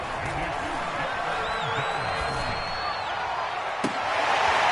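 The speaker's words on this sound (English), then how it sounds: "The crowd getting into it as we come up on a big 3rd down." Crowd in a Madden football video game roars steadily as a big third down approaches in a Falcons game, a loud, continuous cheer filling the whole stretch.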